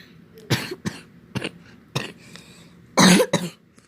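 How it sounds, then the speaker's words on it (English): A person with a bad cough coughs close by in several sharp bursts separated by short pauses, with one heavier fit near the end and a throat-clearing sound. "have a really bad cough,"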